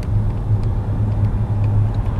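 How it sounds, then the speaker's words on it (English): A 2012 Buick LaCrosse eAssist hybrid car driving on the road, heard from inside as a steady low rumble of engine and tire noise, continuous and fairly loud with faint light clicks above and no talk. "it's a normal Buick LaCrosse car, but with this electrical assist or hybrid assist"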